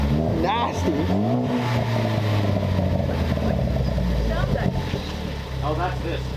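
A car engine with a newly installed aftermarket exhaust revs loudly and close, its deep rumble rising and falling in short throttle blips over a continuous drone, while people talk over it.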